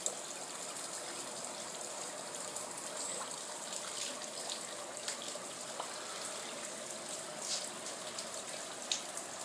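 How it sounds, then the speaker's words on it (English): Floodwater pours down steadily outside near a garage during Saturday evening flooding, a faint, even rushing wash with light splashes and drips throughout. "Water still pouring down."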